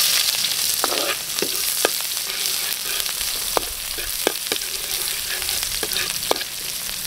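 Onion and garlic sautéing in a pan for a Filipino mung bean dish, with a constant crackling sizzle and repeated spatula taps and scrapes, nearby and without talk.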